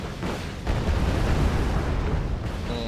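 Airstrike explosions in the war strategy game Wargame: Red Dragon, a dull rumbling boom swelling into a sustained loud roar of blasts and debris, with a faint tonal whine near the end.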